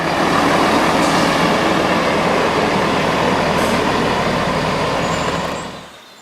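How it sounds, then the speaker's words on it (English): Train rolling into a station platform with a loud, continuous broadband roar and rumble that stays steady before fading out at the end. "Right, a train is approaching."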